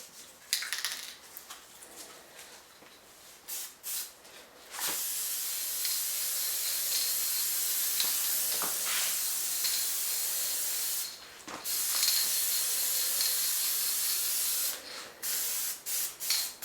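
Spray paint hisses in bursts onto small parts inside a makeshift paint booth, several long sustained sprays broken by short pauses and quick taps, close and fairly loud.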